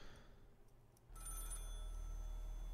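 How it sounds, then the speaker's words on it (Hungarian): A telephone rings in the horror game Maid of Sker, a steady electronic bell tone that starts abruptly partway through and continues over a low ambient hum. "Csörög a telefon."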